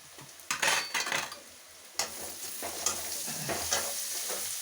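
Onions fry in a pan for a vatha kuzhambu, a close sizzle punctuated by several scraping stirs of a spoon against the pan, and no one speaks.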